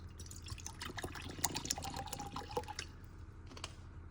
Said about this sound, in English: pour me some water in it.